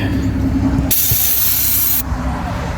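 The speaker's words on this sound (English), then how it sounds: "I'm gonna spray it off again." A loud burst of aerosol cleaner spray hisses for about a second onto a truck part, standing out against low background rumble.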